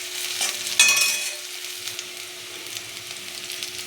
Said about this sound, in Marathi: आता आपली हिरवी मिरची आणि लसूणसुद्धा छानसा परतून झालेला आहे.